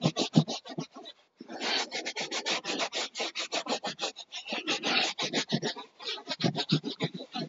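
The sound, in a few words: brush scrubbing dirty car carpet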